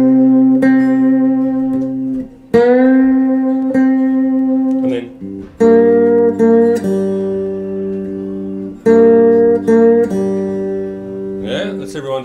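A 3-string cigar box guitar plays a blues riff. Twangy strummed chords and single notes ring out in short phrases with brief gaps, close and fairly loud.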